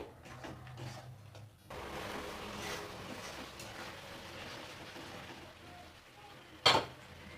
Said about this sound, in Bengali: এবার মশলাটা খুব ভালোভাবে কষাতে হবে যতক্ষণ না মশলা থেকে তেল ছেড়ে দিচ্ছে